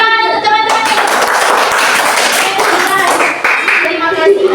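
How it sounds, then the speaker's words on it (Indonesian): Schoolchildren in a classroom clap for their classmates, a burst of close, bright, lively clapping from many small hands, mixed with children's voices and chatter. "Oke, tepuk tangan untuk teman-teman."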